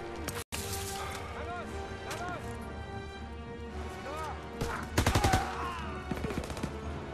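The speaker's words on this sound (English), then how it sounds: "Someone shooting me from behind." Gunfire in the World War II shooter Call of Duty WW2, with bursts of shots that get denser near the end and ring over constant game noise and music.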